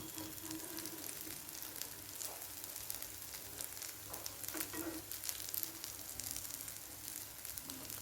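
Sweet potato cutlets frying in a pan over low heat, a faint, even sizzle with soft crackles throughout and no voices.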